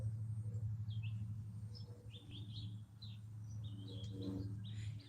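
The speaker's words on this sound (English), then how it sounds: "Y'all hear the birds?" Outdoor birds chirp in quick repeated tweets and short phrases, moderately distant over a constant low rumble of background hum, with no voices.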